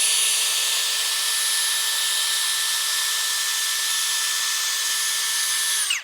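A Keelat KCD015 18V cordless drill driver spins freely at its lowest speed setting, a steady close whine with a constant tone held for about six seconds before it cuts off and winds down abruptly.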